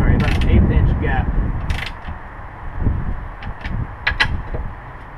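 Bolts on a 3-point strut tower bar are tightened in turns with a ratchet wrench, giving close, quick ratcheting clicks and metallic rasps in short bursts against a rough low background.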